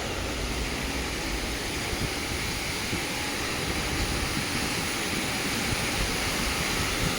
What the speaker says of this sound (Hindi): काफ़ी प्रेशर से गिरा है जिसकी वजह से बहुत प्यारी पानी की आवाज़ आ रही है